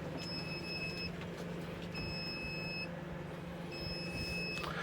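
A motorhome's wastewater tank sensor alarm beeping in three evenly spaced bursts of rapid electronic tones, steady and fairly close, over a constant low appliance hum while a microwave runs off an inverter.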